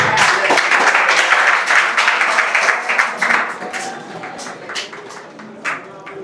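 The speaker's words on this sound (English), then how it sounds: "Let's clap for all the groups." Audience clapping at a graduation ceremony for a training cohort, a burst of dense applause that thins out into scattered individual claps over a few seconds.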